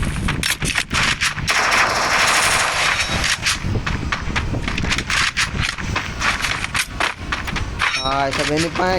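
Rapid gunfire from shotguns and other weapons in the Free Fire battle royale game, a quick string of loud sharp shots, with talking over parts of it.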